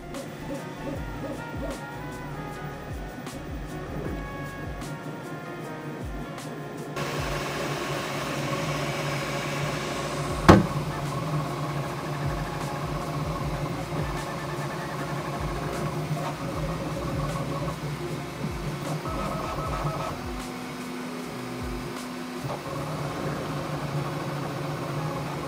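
Bambu Lab P1S 3D printer running a print after its firmware 1.05 update, a steady close mechanical whir with fan hiss and shifting motor tones, plus one sharp click partway through, no talk.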